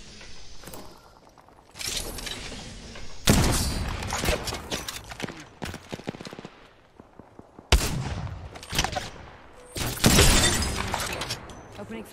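Bursts of gunfire from the video game Apex Legends, with loud volleys and shattering impacts coming in several waves, while people talk over the action.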